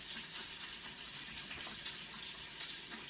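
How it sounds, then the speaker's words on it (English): Garlic-coated hands rinsed under a running kitchen tap, a steady, even rush of water continuing throughout with no pauses. "I am going to rinse off my hands."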